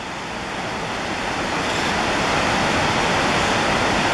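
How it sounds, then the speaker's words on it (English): A world-class trout stream rushes steadily over rocks, a loud, continuous broadband wash of flowing water close by, unbroken for the whole stretch with no voices. "This is a world-class trout stream"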